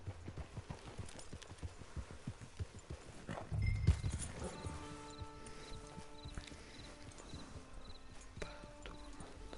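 Horse hooves clip-clop at a walking pace in Red Dead Redemption 2, a steady run of soft thuds with a brief louder burst partway through, followed by a quieter low background tone.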